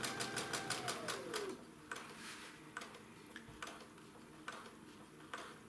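A sewing machine stitches 60-degree triangle quilt pieces at a lowered speed: a quick run of rapid, even ticking, then sparser, slower clicks, quiet and close with no voices.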